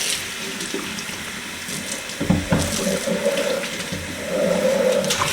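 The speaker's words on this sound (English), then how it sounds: "now that I've ran some hot water down there" Hot water rushes and gurgles continuously down a muzzleloader rifle barrel, a steady close-up roar that swells slightly toward the end.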